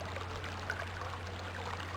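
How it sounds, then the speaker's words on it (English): Running water turned on in the video game Myst, a steady, quiet rushing hiss with no pauses, set over a low constant hum. "Okay, so that is the sound of water that we just turned on."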